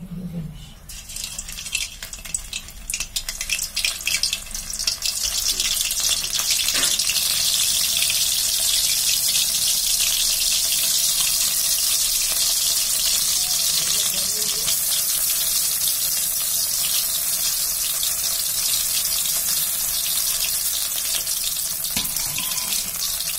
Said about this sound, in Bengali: এবার যে আমরা পাউরুটিটাকে দুধে ভিজিয়ে রেখেছিলাম সেটাকে আস্তে আস্তে করে তেলের মধ্যে ছেড়ে দেব।